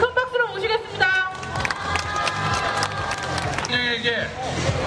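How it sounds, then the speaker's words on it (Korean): A rally crowd applauds to welcome a speaker, with clapping and cheering running throughout under a loud amplified voice speaking over a PA. "백경구 선생님을 큰 박수로 모시겠습니다"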